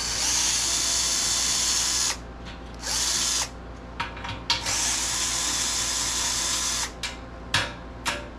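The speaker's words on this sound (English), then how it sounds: "I'm gonna go ahead and pull out the self-tapper" A power drill runs at a high, steady whine while backing a self-tapping screw out of a sandblaster cabinet being turned into a fire pit, in long sustained bursts with short pauses and small clicks between them.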